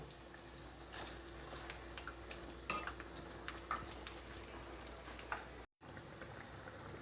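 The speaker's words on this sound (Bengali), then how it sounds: "এখন কাটলেটগুলো অপর পিঠটা ফ্রাই করব।" Chicken cutlets fry on their second side in oil over low to medium flame, a quiet continuous sizzle with small crackles and occasional utensil taps, briefly cut to silence near the end.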